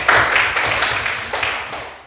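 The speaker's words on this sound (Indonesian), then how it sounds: "kita berikan tepuk tangan" A school class claps together, a short burst of dense, fairly loud hand clapping up close with distinct slaps audible, fading slightly toward the end.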